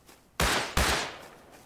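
Two loud, sharp gunshots from the survival video game Rust, fired in quick succession with a short decaying tail after each, no talk over them.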